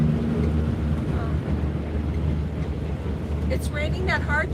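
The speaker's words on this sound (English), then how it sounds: "It's raining that hard you couldn't hear me?" Heavy rain pours down with wind on the road toward Quartzsite, a steady dense wash of noise with a low hum underneath, while faint voices and a few tonal chirps rise briefly near the end.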